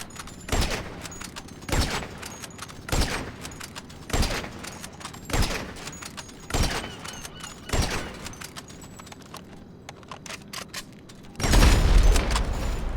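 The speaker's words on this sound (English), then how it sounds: "Just gonna go at it with the regular rounds." Gunfire from regular rounds aimed at a jet in a video game, arriving as about eight evenly spaced loud shots roughly a second apart, followed by a louder sustained blast near the end.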